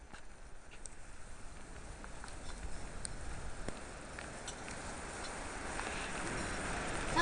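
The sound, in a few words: rain pattering at a camp tent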